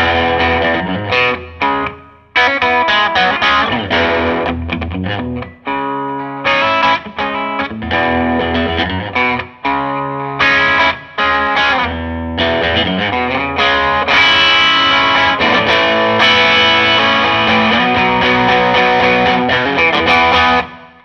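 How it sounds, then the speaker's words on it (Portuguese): Electric guitar played through a Klon KTR overdrive pedal with a bit more drive, loud and close, with chords and picked notes ringing in an irregular rhythm and a thick, mildly distorted tone, no voice. "que eu uso ele com um pouquinho mais de drive, e o som da guitarra fica basicamente assim"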